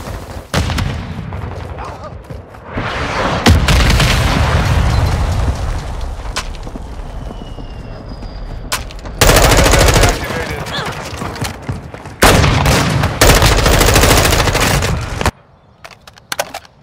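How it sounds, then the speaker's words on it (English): Call of Duty Modern Warfare 2 combat: a grenade bursts with a heavy boom among loud, repeated gunfire bursts that cut in and out, then the noise drops to a quieter lull at the end. "Grenade out!"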